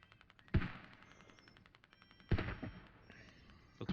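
Video game artillery barrage: two heavy booming impacts land about two seconds apart, each with a rumbling tail, over faint background crackle and a thin high whine, mid-distance and fairly quiet.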